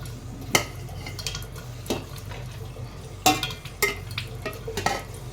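Ghee-coated rice spooned into a biryani pot, a few sharp metal spoon clinks and scrapes against the pot at irregular intervals over a low steady kitchen hum.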